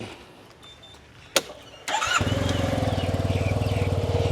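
A few clicks, then a motorbike engine starts and settles into a loud, steady idle with a rapid rhythmic putter.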